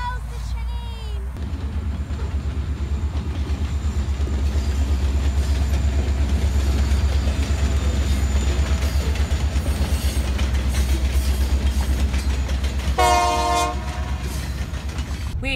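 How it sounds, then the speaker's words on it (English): Freight train rolling past near a road, a loud steady rumble with rhythmic clickety-clack of wheels and a horn blast near the end, alongside a short voice at the start. "Styles, the train!"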